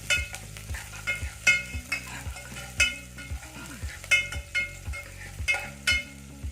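Onion and curry leaves sauté in a pan, a low steady sizzle broken by frequent scraping stirs and sharp clinks of a spoon against metal, close and continuous with no voices.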